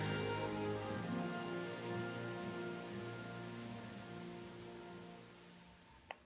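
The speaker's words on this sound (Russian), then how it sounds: "Постояли под дождем, помокли" Steady rain pours in a video game, a constant even hiss of falling drops with a low tonal hum beneath and a brief click near the end, no voices.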